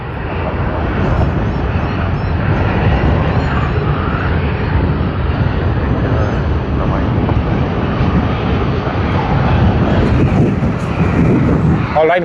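A QantasLink airplane at Sydney Airport gives off a steady, broad roar that holds for the whole stretch, with people talking over it.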